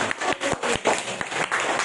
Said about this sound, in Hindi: तो एक बार जोरदार तालियां बजाते हैं।